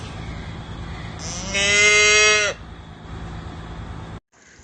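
A cow on a farm at night gives one loud, drawn-out moo close by, rising and then holding steady for about a second, over quiet background hum. No speech.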